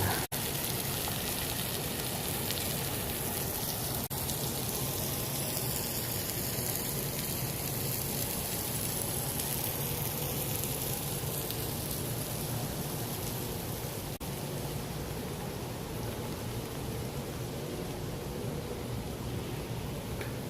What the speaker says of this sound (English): It's indoor rain.